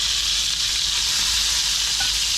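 Seared lamb chops sizzle steadily in a skillet, a loud, dense, unbroken frying hiss close to the listener, with no one talking.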